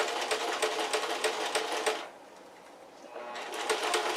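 A sewing machine runs steadily, stitching a seam finish on a pair of shorts with a fast, even rattle close up. It pauses briefly partway through, then resumes.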